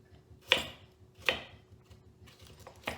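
A chef's knife chops carrots on a cutting board: three crisp, close strikes, the first two about a second apart, the last slightly softer, with quiet between them.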